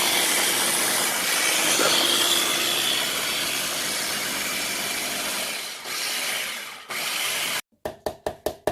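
Blender whirring through thick keto brownie batter, a steady loud grinding drone that dips and strains near the end, then a few sharp separate bursts as it pulses on and off.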